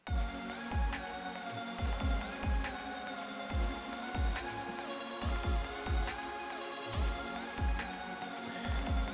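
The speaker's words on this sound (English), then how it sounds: "Yeah, airwave trance saws is what they're called" Bright, buzzing airwave trance saw synth from Nexus holding dense sustained chords over a steady thumping kick beat, full and continuous throughout.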